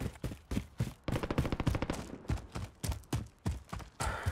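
Rapid bursts of gunfire in Call of Duty Warzone's Plunder mode: repeated clusters of sharp shots in quick succession, fairly loud and close, with short pauses between bursts and no talking.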